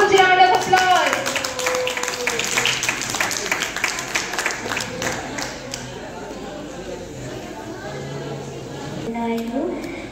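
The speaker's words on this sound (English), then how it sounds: "Huge round of applause." An audience at an abaya fashion walk event claps in a loud, dense round of applause that fades over several seconds, while people chatter and speak over and after it.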